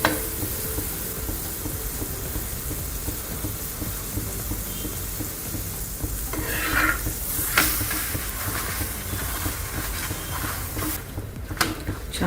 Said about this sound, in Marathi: बटर लावून घ्यायचे